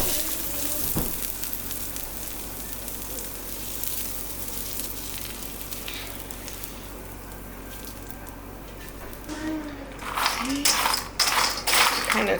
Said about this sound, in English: we're going to add in our sauteed vegetables